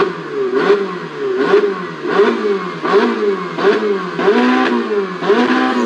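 A four-stroke motorcycle engine revs repeatedly, rising and falling in regular surges about every second, loud and close, with a steady mid-pitched engine drone.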